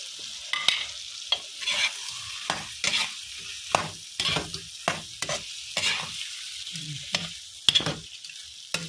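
Tomato stirred into a sizzling pan of shrimp with garlic and butter, steady frying hiss broken by repeated scraping strokes of a utensil, close up and with no talking.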